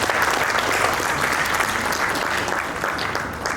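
An audience at an entrepreneurship business conclave claps hard in a dense, steady burst of applause that fills the room and carries on without a break.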